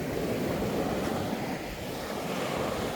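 Steady ocean surf washes continuously at a beach at Seonnyeo Bawi on Yeongjong Island, with a broad roar and wind noise on the microphone, with no voices.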